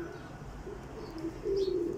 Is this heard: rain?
no